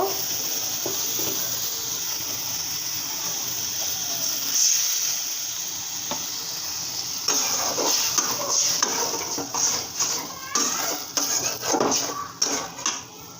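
Spices being stirred and fried in a pan for a leafy greens dish, with a soft constant sizzle under repeated metal scraping and clinks of a spoon against the pan that grow busier and louder toward the end.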